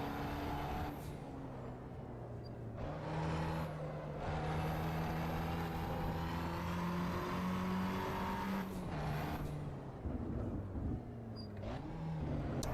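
A small Fiat's exhaust burbles and revs in the Assetto Corsa EVO racing game, engine tones rising and falling through gear changes with brief lifts of the throttle, loud and continuous.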